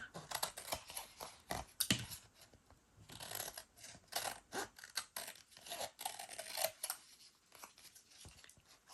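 Close, crisp cutting and clicking as a paper journal card made from old book pages and paint cards is trimmed, in irregular bursts of short snips and rustles with brief pauses between.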